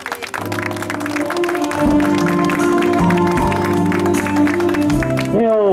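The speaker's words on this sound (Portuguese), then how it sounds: "Uma salva de palmas," Guests at an engagement and birthday party applaud, the clapping spread over a loud background of music with sustained tones, continuing for several seconds.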